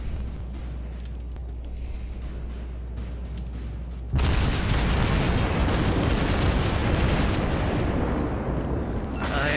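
A heavy shell hit explodes in the World of Warships naval video game, a sudden loud blast that gives way to sustained rumbling roar after a quieter stretch of background battle noise.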